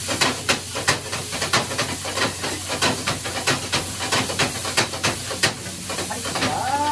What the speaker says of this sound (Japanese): はい、全開でスピードで炒めていきます